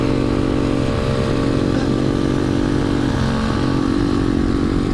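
A small pit bike engine runs steadily and loudly throughout, a constant buzzing drone with slight fluctuations and no talking.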